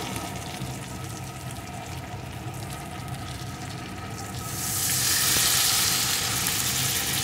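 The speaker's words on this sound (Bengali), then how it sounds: "এখন এর ভিতরে আমি দিয়ে দেবো পরিমাণ মতো জল।" Warm water pours into a pan of sizzling eggplant and hilsa fish curry with potato, steady frying crackle swelling into a louder, rushing hiss midway through as the liquid hits the hot oil.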